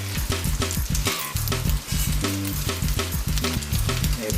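Lamb chops fry in a pan of butter and oil with a loud, steady sizzle that keeps going throughout, close up, under background music.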